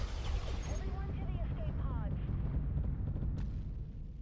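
Starship guns fire rapidly in the space combat game Starpoint Gemini Warlords, a dense, continuous barrage of booming blasts with sweeping tonal zaps over it, and a voice talks over the shooting.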